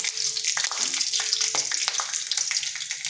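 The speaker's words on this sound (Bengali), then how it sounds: "দিচ্ছি দুটো কাঁচা লঙ্কা এভাবে যদি কাঁচা লঙ্কাগুলো একটু ভেজে নেওয়া হয় তাহলে কিন্তু টেস্টটা" Green chillies frying in hot oil, giving a dense, steady sizzle with a few sharp crackles and stirring clicks, close and loud, with no talking.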